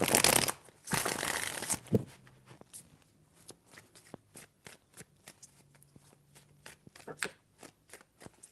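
Tarot cards are shuffled in two loud riffling bursts near the start, followed by a series of soft, sparse taps and slaps as cards are handled and laid down.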